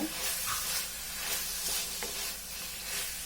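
Cumin powder being stirred into chicken masala frying in a pan: a continuous close sizzle with scraping spoon strokes and soft clinks, no talking.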